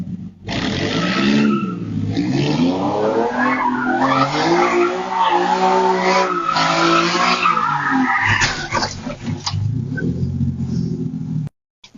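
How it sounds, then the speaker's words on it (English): A car skidding through a corner in California, tires squealing and engine roaring loudly and continuously for several seconds before it crashes into a fence, with no talking. "a California resident who crashed into a fence"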